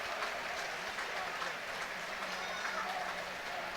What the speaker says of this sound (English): The Wrexham fans are singing his name and applauding.